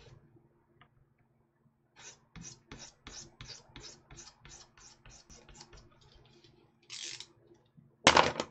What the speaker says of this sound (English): I need to do a little bit more filing on this edge here, because this is not exactly the cleanest